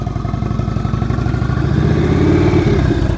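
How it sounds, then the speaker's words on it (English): A motorcycle engine runs loud and near during slow-speed riding practice in Ohio, a steady low rumble with a slight rise in revs toward the end. "Listen to your engine."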